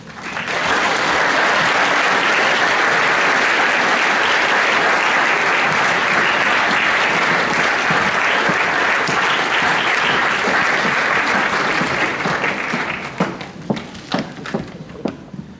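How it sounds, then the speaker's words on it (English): A graduation crowd applauds for a Year 13 graduate, a loud, dense roar of clapping sustained for over twelve seconds before thinning into scattered individual claps at the end. "Round of applause for me, please."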